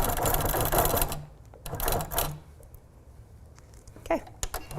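A sewing machine runs fast, tacking quilt layers held in a Hummingbird hoop, with dense continuous needle chatter in bursts that pause and restart, and scattered light clicks in the gaps.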